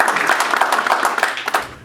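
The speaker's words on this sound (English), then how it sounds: "You deserve a big round of applause for yourself." Audience applause fills a hall at a business talk, dense steady clapping from many hands at close range, carrying on for a couple of seconds with no voices over it.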